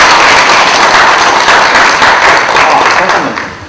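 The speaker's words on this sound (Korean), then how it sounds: "우리 박수로 환영하겠습니다." A church congregation at Sunday worship applauds to welcome a newly baptized child: loud, close, sustained clapping from many people that fades slightly toward the end.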